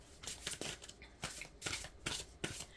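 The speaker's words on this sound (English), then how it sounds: "So I'm going to give a shuffle here." Tarot cards shuffled by hand in a string of quick riffling bursts, close and crisp, repeating roughly every half second with short pauses between.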